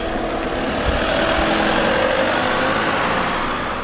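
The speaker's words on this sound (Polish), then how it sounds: "Jedzie samochód za Tomciem." A car drives along behind a rider on a Diabolini 250 motorbike, a Honda replica, its engine a steady, moderately loud hum under broadband road and wind noise.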